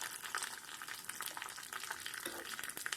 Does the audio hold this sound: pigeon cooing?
no